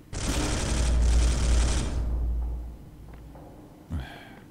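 Gunfire in the video game Space Hulk: a sustained loud burst of rapid automatic fire for about two seconds, then a fading rumble and a short later impact.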